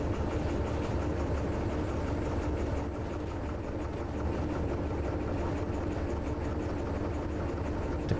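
Train cars rolling along rails in the video game Derail Valley, a steady low rumble and clatter with a continuous heavy engine drone, loud and unbroken throughout with no talk.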